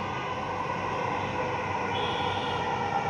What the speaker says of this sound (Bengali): এই যে আসছে মেট্রো দেখছেন